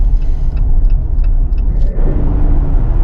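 Tires of a 2024 Jeep Wrangler Sport S 4x4 vibrating over a rough road, a steady loud low rumble of road noise with a faint, intermittent high whine above it.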